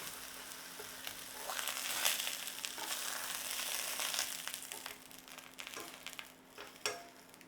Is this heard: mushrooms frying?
yes